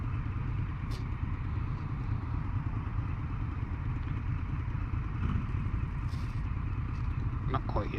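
Indian FTR1200 S motorcycle engine idling, a steady dense rumble held at a constant level throughout, with faint clicks and a voice talking over it.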